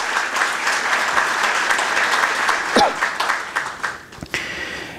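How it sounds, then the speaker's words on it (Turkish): Audience applause rises at a symposium closing ceremony, a steady dense clapping from a large crowd that holds for several seconds before thinning into scattered claps near the end. "onlara hepinizin bir alkışını"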